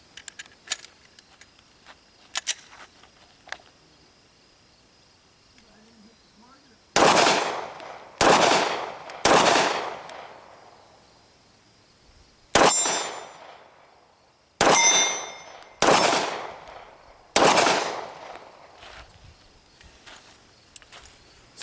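A Glock 19 Gen 4 9mm pistol fires at long range outdoors, sharp loud shots in irregular singles and quick pairs, separated by quiet gaps with faint distant clinks and small metallic taps.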